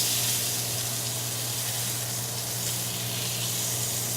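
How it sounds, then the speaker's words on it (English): Salmon fillet sizzles steadily in a hot pan just after being flipped, a close, even frying hiss with faint crackle and no talk. "we're just gonna take a fork, flip it over in the pan"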